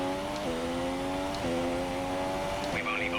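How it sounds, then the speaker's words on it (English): Mercedes V6 Formula 1 engine in a racing video game at the Spa circuit, holding a steady high-pitched whine that drops sharply in pitch at each of three gear shifts. Loud and continuous, with a brief chirp near the end. "they've also done the sounds of the Mercedes engine at very least very nicely"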